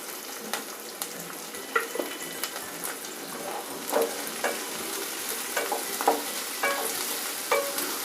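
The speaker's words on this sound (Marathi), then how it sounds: "मसाल्याचे हे सगळे जिन्नस आपल्याला एकत्रच भाजून घ्यायचे आहेत" Whole spices for a village-style country chicken rassa roast in a little oil in a pan, a steady low sizzle broken by irregular scraping strokes of the spoon, close and fairly loud.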